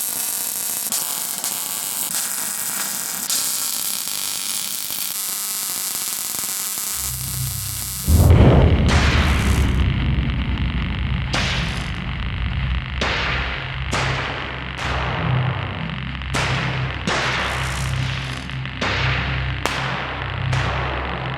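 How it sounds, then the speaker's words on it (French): A MIG welding torch sparks up at about eight seconds, bringing a loud, steady buzzing crackle broken by short bursts and gaps, after a stretch of quieter workshop noise. "je vais souder donc avec mon poste au MIG"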